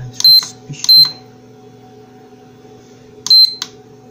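An Imax B6 universal battery charger gives three short, loud beeps, a quick pair and then a single one after a pause, over a steady low electrical hum.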